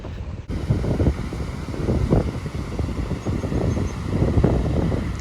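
Ocean surf of about two to three feet breaking onshore on a hazy, chilly day, heard as a continuous rushing roar with swells of louder wash, heavily buffeted by wind noise on the microphone.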